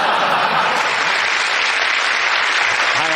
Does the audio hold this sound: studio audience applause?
yes